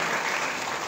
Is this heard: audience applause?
yes